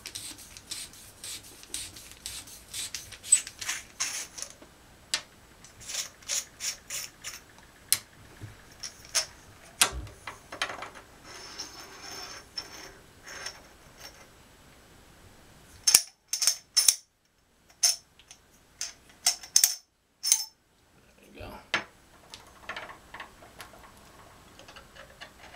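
A gun suppressor is unscrewed and taken apart with a takedown tool, producing close metallic rubbing, scraping and light clicking in irregular bursts with brief quiet gaps, no voices.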